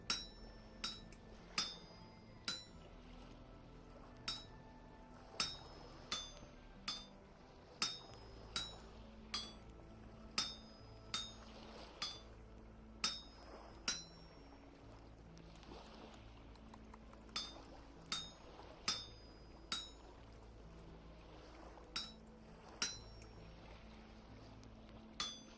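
Iron being smithed with a hammer on an anvil in the video game Vintage Story: sharp metallic clinks strike at a steady rhythm, roughly one per second, over soft background music.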